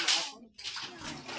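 Clean water pours and splashes into a dirty tank to wash it out, a close rushing spill with a short break partway through.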